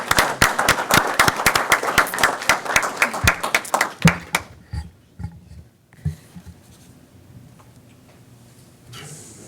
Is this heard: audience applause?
yes